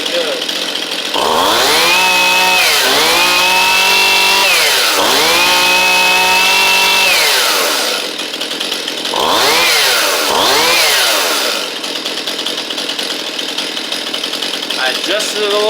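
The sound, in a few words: Stihl MS171 chainsaw running after reassembly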